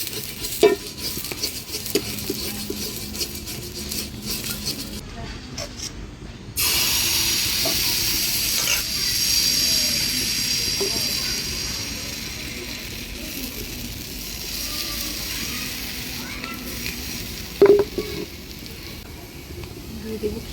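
Pitha frying in mustard oil in a wok: a steady, close sizzle and hiss that swells louder partway through, with occasional stirring clatter and people talking faintly in the background.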